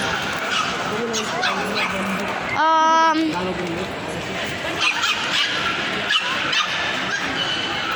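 Dogs bark, yip and scuffle at a dog festival inside a shopping mall, with one loud harmonic howl-like yelp standing out amid a noisy crowd and people talking throughout.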